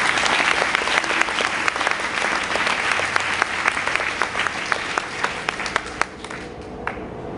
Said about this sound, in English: Give God a big round of applause right now.